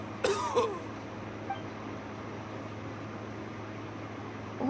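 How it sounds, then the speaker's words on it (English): A video game man coughs a few times in short, rough bursts near the start, then falls quiet over a steady low background hum. "Why is he coughing so much?"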